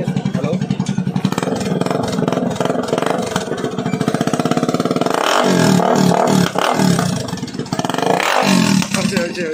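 A Bajaj NS 160 motorcycle with its exhaust removed revs loud and close, a raw, rattling engine roar that rises and falls in throttle bursts, with voices talking over it.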